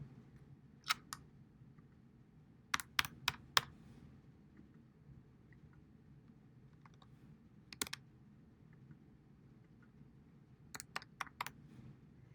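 Someone types credit card numbers on a computer keyboard in quick clustered bursts of sharp key clicks separated by quiet pauses, close and fairly faint.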